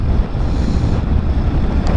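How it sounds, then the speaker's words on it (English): Strong gusting wind on an extremely windy, blustery day, a loud steady roar buffeting the microphone with no pauses. "It's an extremely windy day"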